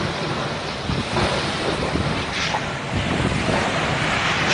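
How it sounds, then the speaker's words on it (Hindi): Rough, churning sea at the Gateway of India in Mumbai during Cyclone Nisarga, heard as a continuous loud roar of crashing surf mixed with gusting wind noise on the microphone, with no voices. "गेटवे ऑफ इंडिया समुद्र में पूरी तरह से उथल पुथल, लगभग 1-1 मीटर ऊंची लहरें उठ रही हैं इस समय समुद्र में।"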